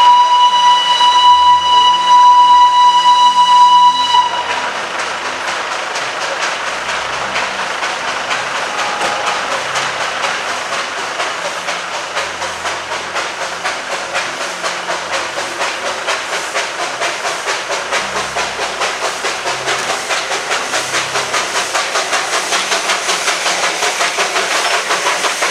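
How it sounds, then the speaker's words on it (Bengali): The Darjeeling Himalayan toy train sounds a loud, steady steam whistle for about four seconds, then a long, rhythmic hiss and chuff of steam continues close by. "পথ চলতে চলতেই শুধু দেখা নয়, শোনাও হলো বিশ্ব ঐতিহ্যের টয় ট্রেনের।"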